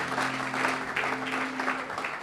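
Congregation clapping at a Sunday church service, a steady rolling wave of applause with a faint tonal hum beneath, no words spoken.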